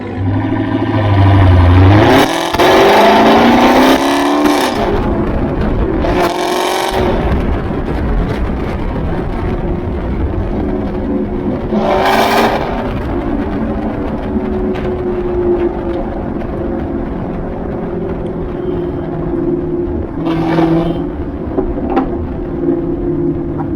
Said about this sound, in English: So you heard what it sounded like with the extreme delete.